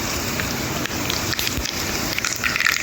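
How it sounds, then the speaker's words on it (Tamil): Mustard seeds spluttering in hot oil while tempering for a moringa dal fry, a dense, steady crackle filling the whole stretch with a few sharper pops near the end, close and fairly loud, with no talking. "கடுகு பொரிய ஆரம்பிக்குது"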